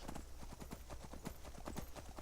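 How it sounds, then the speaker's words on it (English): Horse hooves clopping on a dirt path in the Skyrim video game, a quick steady rhythm of close, distinct hoofbeats at a moderate level, with no voices. "Use the powers of the magical Skyrim horse and go where no Skyrimer has gone before."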